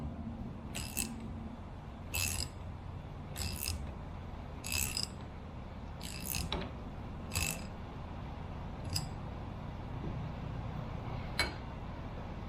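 Repeated clicking of a hand ratchet tightening rear shackle bolts on a C10 pickup during an LS swap, about nine quick ratcheting bursts at an even pace over a steady low background hum.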